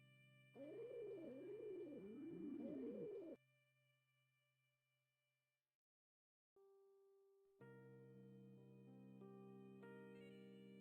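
A bird in the Cube Escape puzzle game sings a pattern of warbling, cooing notes for a few seconds, followed by sustained synthetic tones, a silent gap, then layered melodic chimes and hums, all quiet and without talk.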